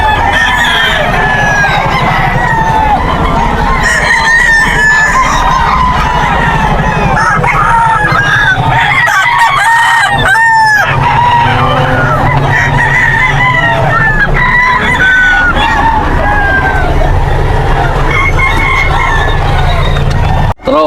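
Roosters crow repeatedly at the Bocaue pet market, including a bull stag, several overlapping cock-a-doodle-doos near and far among clucking fowl, with brief voices in the background.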